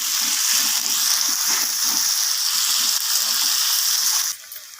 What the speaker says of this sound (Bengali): পেঁয়াজগুলোকে আমি একটু নাড়াচাড়া করে ভেজে নেব তেলের মধ্যে